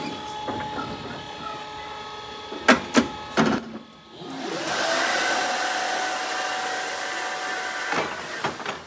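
Steady whirring of a cooling fan on a robot beside a forklift battery in thermal runaway, a broadband hum that holds through the clip, broken by a few sharp clunks and a brief dip before resuming louder.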